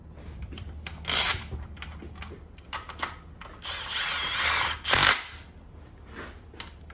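Bolts are threaded into a Toyota R150F manual transmission case, heard as close metallic scraping and ratcheting bursts with a longer rough grinding stretch, all in a quiet workshop.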